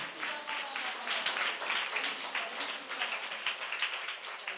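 A church congregation claps together, a steady, moderately distant round of clapping that continues evenly throughout without talk over it.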